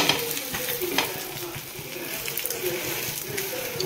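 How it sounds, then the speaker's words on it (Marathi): An egg fries in a heated pan for an egg chapati, a steady close sizzle with soft scraping and scattered light clicks. "इथे आपण अंडा तळायला हे ठेवलं आहे, पॅन तापवत ठेवलं आहे अंडा तळायला"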